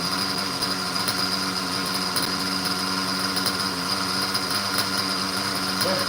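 A small glow or nitro RC model engine, an Opna Pico .21, holds a steady high-pitched buzzing idle, continuous and close with no speech.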